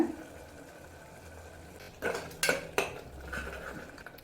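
Ground paste being sautéed with cashews in a pan for mint coriander rice, heard as a few sharp metal spoon-on-pan scrapes and clanks, close and moderately loud, with quiet kitchen hum between them and no talk.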